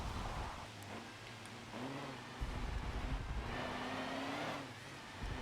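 Race car engines in Forza Motorsport 7 at Spa-Francorchamps, a steady droning roar with rising and falling revs as cars accelerate, continuous and fairly close, with no talk over it.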